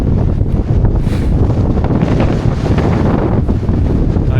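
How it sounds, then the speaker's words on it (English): Strong wind buffets the microphone on the summit of Galtymore mountain, a loud, continuous roaring rumble with gusty surges and no pauses. "it's so windy up here"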